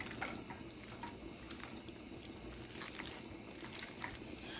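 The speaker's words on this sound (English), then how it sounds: "you're just going to take this and mix it in to your hamburger meat" Seasoning worked by hand into raw hamburger meat for Salisbury steak patties, a steady close, wet squishing and kneading with soft sticky smacks and a few brighter splats, continuous throughout.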